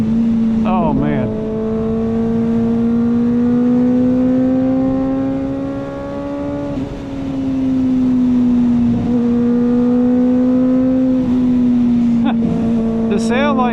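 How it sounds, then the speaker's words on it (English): A Kawasaki ZX-4RR motorcycle with a slip-on exhaust, ridden at speed, gives a loud sustained high-revving drone that holds nearly steady, dips briefly, then climbs again, with wind rush and a brief voice under it. "Man, this bike sounds amazing."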